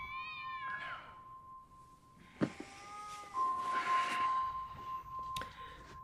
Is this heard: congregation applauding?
no